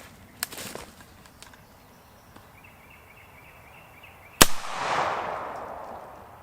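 A single sharp gunshot from a rifle firing a Hornady 120 grain 300 AAC Blackout round at a clay target outdoors, loud and abrupt, followed by a brief rolling echo, with a few faint small pops before it.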